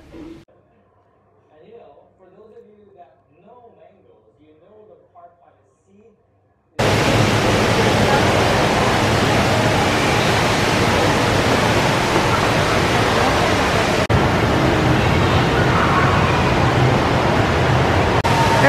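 A large indoor waterfall at Singapore airport roars steadily as broad, loud, continuous rushing water. It starts abruptly after a quieter stretch of talk and holds unchanged to the end.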